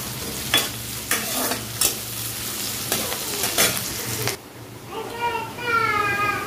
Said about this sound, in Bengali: পেঁয়াজ লঙ্কা একটু ভাজা ভাজা হয়ে গেল